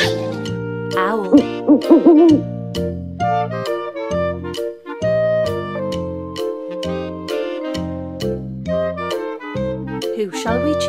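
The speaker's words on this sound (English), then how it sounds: "Owl." Toy surprise egg playing a cartoon owl hooting sound effect: a loud, bright, bouncy run of repeated electronic hoots and chimes with a musical tone, going on steadily and close up.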